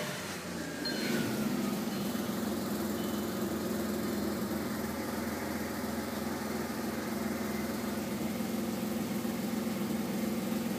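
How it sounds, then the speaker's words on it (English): A 2001 Audi A6 Quattro with a holed exhaust that trips its O2 sensors starts cold and settles into a steady, rough, droning idle, held evenly close by for about ten seconds with no talking. "Give you guys a cold start,"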